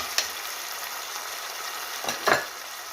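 Pepper filling of tomato paste and onion frying in a pan, a steady soft sizzle with a couple of brief louder spits and stirring scrapes, close and alone with no talk.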